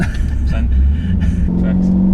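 A Chevrolet SS engine pulling hard under acceleration, a loud low rumble with rising tone, heard from inside the car with people talking over it.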